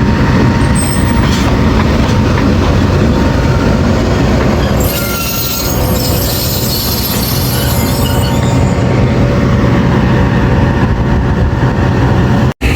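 Rail cars pass close and loud at Attock City Junction with locomotive 6428 nearby. Wheels squeal and rumble continuously, and a sharper metallic screech rises midway.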